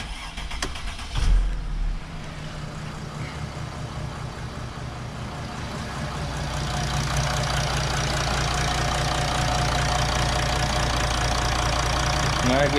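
A Mercedes engine, restarted after oil-leak repair work and a refitted O-ring, cranks and catches, then settles into a steady, loud, close idle that fills the rest of the clip.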